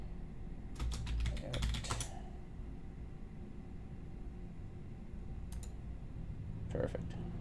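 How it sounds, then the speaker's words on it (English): Quick bursts of typing on a computer keyboard, close and crisp, a cluster of rapid key clicks early on, then a couple of isolated taps later over a steady low background hum. "Keyboard."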